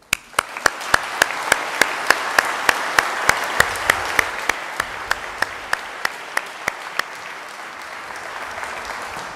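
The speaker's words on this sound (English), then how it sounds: "give all those ladies and gentlemen a round of applause" Audience applause for graduates at a summer university graduation ceremony, with a steady crowd clapping wash and sharp rhythmic claps over it, sustained for several seconds before slowly fading.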